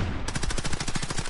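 Rapid automatic bursts from an Uzi submachine gun in a video game, a steady rattle of closely spaced shots filling the clip, loud and close with no talk.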